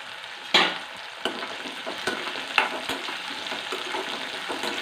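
Curry leaves drop into hot oil for a Kerala-style curry and sizzle loudly, with sharp crackling bursts and the scrape of stirring over a steady frying hiss.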